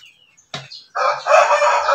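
A backyard chicken coop rooster gives a short, close, loud crow after a brief sharp call, with no talking over it.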